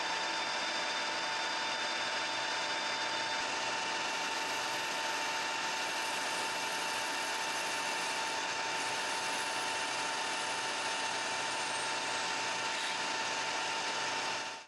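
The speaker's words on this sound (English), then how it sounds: "Parting it off and leaving a little extra material." Metal lathe parting off a brass-tipped lockscrew, a steady close whir of spindle and cutting tool with a faint high whine, running continuously without pause.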